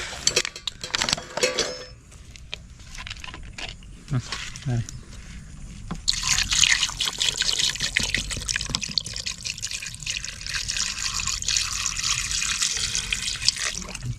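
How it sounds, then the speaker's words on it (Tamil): Water splashes and runs as it is poured over raw chicken meat in a container to rinse it, turning into a steady rushing pour in the second half, with a voice talking early on. "இந்த தண்ணி ஊற்றிட்டு நல்லா அலசி எடுத்துக்கிறோம்"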